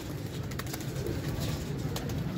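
Pigeons in a cheap-priced breeding setup, females among them, coo in a continuous low rumble close at hand, with scattered brief rustles and wing flicks cutting through.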